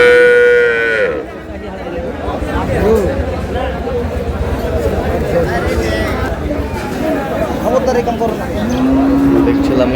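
A cow with a calf gives a few moos at a busy village cattle market, Aftabganj haat. Dense crowd chatter runs throughout, and a long low call comes near the end.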